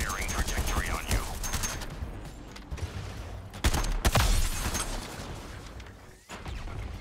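Video game gunfire in Suicide Squad Kills the Justice League: bursts of shots and crashing impacts over busy game effects and music, with a loud heavy blast near the middle and an abrupt drop before the end.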